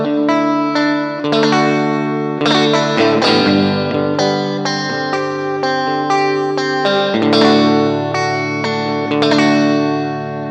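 Clean electric guitar on the neck and middle pickups, run through a Joyo American Sound pedal with a touch of drive, plays chiming strummed chords and arpeggiated notes with steady sustain, loud and close, with no talking.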